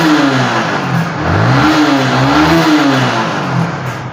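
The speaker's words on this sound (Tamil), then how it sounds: "இப்போ ரைஸ் பண்ணுற பாருங்கள்" A Yamaha R15 motorcycle engine with a 46 error code revving up, a loud close mid-pitched engine note rising and falling in a few swells over a steady running drone.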